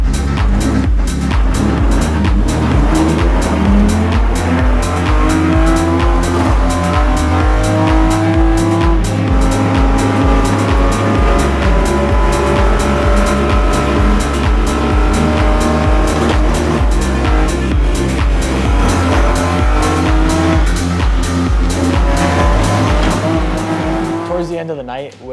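A BMW M4 GT race car runs at speed at Indianapolis Motor Speedway during a Michelin Pilot Challenge night race, a loud engine howling steadily through gear changes, heard continuously from close onboard.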